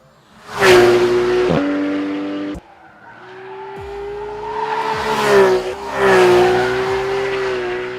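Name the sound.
Porsche 911 991 GT3 engine revving to high RPM on road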